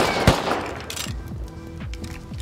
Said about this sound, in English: Shit, nail gun almost killed me.